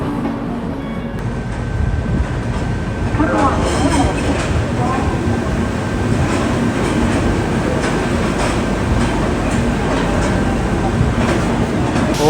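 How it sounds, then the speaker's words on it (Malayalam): Heard from aboard, the Kerala Sampark Kranti Express pulls into platform 1 at New Delhi station with a steady rolling rumble and light wheel clatter, a faint tonal whine running through it. "ന്യൂഡൽഹി പ്ലാറ്റ്ഫോം നമ്പർ 1 നമ്മുടെ കേരള സമ്പർക്ക് ക്രാന്തി വന്ന് കയറുകയാണ്"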